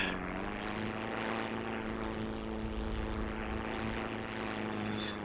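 A propeller aircraft sits on the runway in the video game Heroes and Generals, its engine producing a loud, steady droning hum that holds constant throughout, with no talking.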